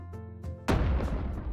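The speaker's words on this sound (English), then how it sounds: "Wait, is that a working cannon?" A cannon fires in the video game DWARRF, a single loud close boom with a sharp onset that decays into a rumbling tail, following a steady tonal game hum.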